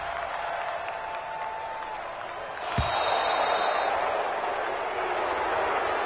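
Stadium crowd applause in an American football video game, a steady broad roar and clapping that swells slightly partway through with a brief thud, continuing at even loudness throughout.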